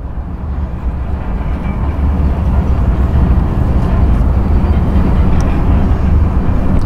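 Loaded wind turbine blade train rolling steadily through a 90 degree curve, a continuous loud low rumble of wheels and cars with no wheel squeal, building slightly over the first two seconds and then holding even throughout.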